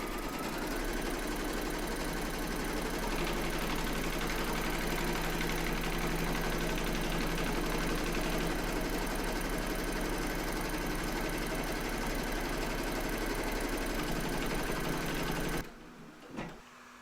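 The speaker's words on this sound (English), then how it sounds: "now going to pop your hoop into your machine and stitch round number 3" An embroidery machine stitches a trapunto quilting pattern into a hooped quilt block with white thread. Its steady, fast mechanical whir runs continuously for about fifteen seconds, then stops abruptly.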